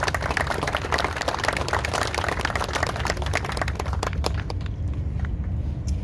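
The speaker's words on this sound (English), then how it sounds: "Let's give her a round of applause" An outdoor audience at the San Pedro Public Market groundbreaking ceremony gives a round of applause, with many hands clapping densely and loudly before thinning out slightly toward the end.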